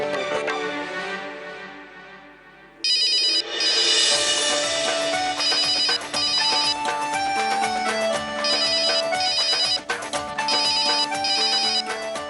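An electronic ringtone plays loudly and repeatedly after a brief musical lead-in, its chiming pattern looping several times.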